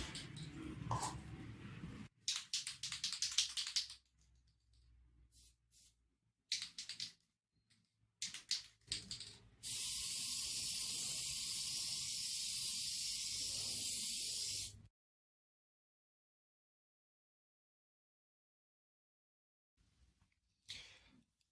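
A spray can hisses enamel clear coat onto a guitar body in a steady five-second blast, after scattered shorter bursts and clattering handling, then a long silence and a final brief spritz.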